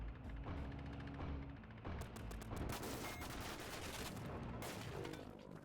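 Bursts of rapid gunfire from Psycho Patrol R, several volleys of automatic shots with mechanical clicks between them, fairly loud and with no talking over them.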